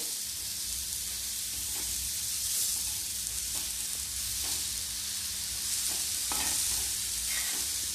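Finely grated cabbage fries on low heat in a pan, a steady close sizzle with repeated scraping stir strokes, no voices over it.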